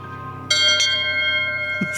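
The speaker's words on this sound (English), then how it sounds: "It's a deep-bass baritone bell." A deep, bass-toned bell rings out once with a sustained, slowly fading hum, followed by a softer second tap near the end.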